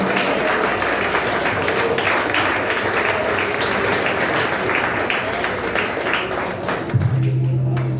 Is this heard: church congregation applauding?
yes